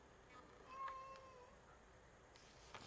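A pet cat outside the room lets out a soft, drawn-out meow, muffled and somewhat distant against a quiet background, with a couple of faint clicks afterward.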